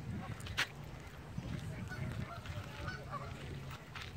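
Wild ducks gathered on a lake, with a few honking, goose-like calls rising over faint outdoor background noise and some distant voices.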